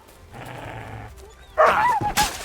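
A dog in Kingdom Come: Deliverance II gives a couple of short, loud, close growling barks and yelps after a low whining sound, over game ambience.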